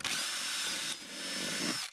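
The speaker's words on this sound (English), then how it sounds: "just a 6 or a 7mm drill bit" A power drill with a 6 or 7 mm bit bores through the original rear wheel-arch liner on a Land Rover Freelander 2 while a bumper bodykit is fitted. It gives a loud, steady whine near the mic with a brief dip in speed midway, and there is no talk.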